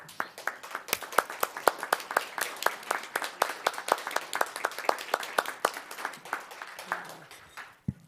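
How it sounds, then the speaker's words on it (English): Commissioners and audience stand to applaud an honoree at a city planning commission meeting, a steady round of fairly close hand claps with distinct individual claps, running throughout before tapering off near the end. "give her a big round of applause"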